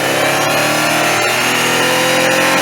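A Jeep Wrangler JL Willys two-door on a 3-inch lift and 33-inch tires revs hard as the clutch is dumped, a loud, steady engine roar that holds for the whole stretch without letting up.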